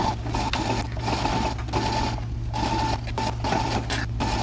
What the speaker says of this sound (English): We're going to take this over to our sewing machine. We're going to baste all these layers together.